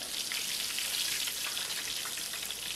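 A breaded chicken parmesan cutlet fries in a pan of oil, giving a dense, even sizzle with fine crackling throughout, close and fairly quiet, with no speech.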